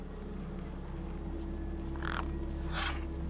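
Crows cawing in the video game Beyond a Steel Sky, two short harsh calls near the end over a steady low ambient drone.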